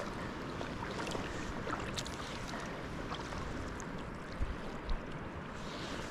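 Sea kayak paddling from Dwarwick pier along the southwest coast of Dunnet Head: a steady wash of water and wind noise throughout, with a couple of soft splashing paddle strokes near the end, no voices.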